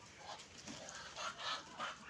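A rooster clucks in short repeated bursts at moderate distance, with a few sharper calls standing out over a steady farmyard background; no one speaks.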